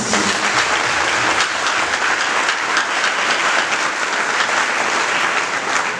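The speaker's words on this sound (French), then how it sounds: "nous faire entendre par une claquette d'applaudissements pour CAIPES Institut" Sustained, dense applause from a graduation ceremony audience fills the whole stretch at steady loudness, with no voices standing out.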